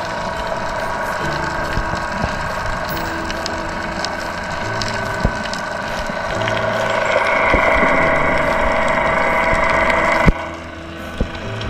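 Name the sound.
boat engine running loudly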